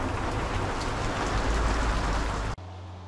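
A heavy rain shower pours down outdoors during a fishing trip, a loud, dense and continuous downpour. It cuts off abruptly near the end, leaving a quieter low rumble.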